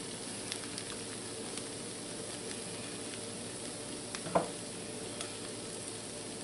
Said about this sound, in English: then we're going to add the peppers and onions and some mushrooms